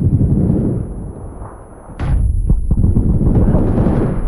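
Beryl M762 rifle fire in PUBG: heavy, booming reports and thuds with a sharp crack partway through, followed by a quick run of shots over a loud, rumbling background.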